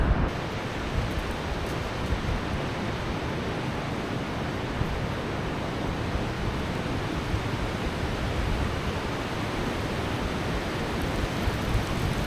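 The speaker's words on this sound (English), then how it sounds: "I love the sound of the ocean" Steady roar of ocean surf washing onto an Alaskan beach, broad and continuous with no voices, the waves rolling in close and loud.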